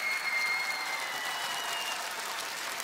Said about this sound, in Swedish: lokalerna applåderar, utom Alexander Barn.